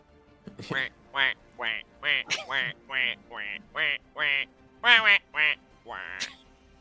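A person voices a string of about a dozen nasal duck quacks in a steady, bouncy rhythm, loud and close, mimicking a duck in a comic tabletop role-play game session.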